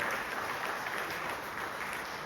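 Applause from a church congregation during a bilingual English and Hindi service, a steady wash of clapping hands that fills the room evenly for a couple of seconds, with no voices on top.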